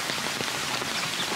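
Rain falls steadily at Hiroshima Castle, pattering evenly on surfaces near its moats with a dense, close, continuous patter and scattered sharper drops, heard alone without talking.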